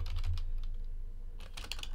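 Rapid keystrokes on a computer keyboard come in two short bursts separated by a quieter pause, close and fairly soft over a low background hum.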